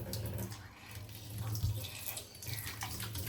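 Tap water runs steadily into a sink during hand washing at home, a continuous close splashing rush with slight variations as hands move under the stream.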